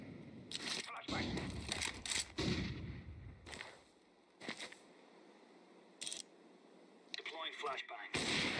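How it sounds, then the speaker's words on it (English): Counter-Strike 2 grenade and flashbang blasts with sharp gunshots land in irregular loud bursts, separated by quieter gaps, while voice callouts speak over the action. "Deploying flashbang."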